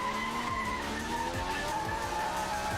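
A Toyota Trueno engine in a racing video game screams at a sustained, very high rev, its steady whine running alone for the whole stretch with a faint skidding hiss beneath.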